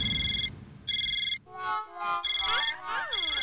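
A phone rings in a sitcom home at night with a looping electronic ringtone, two short beeping bursts followed by a warbling melodic tune, loud and close with no talking.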